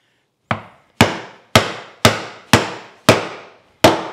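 A chisel is struck into wood while hand-cutting a mortise, seven sharp, evenly spaced knocks about half a second apart, each loud and close with a quick decay.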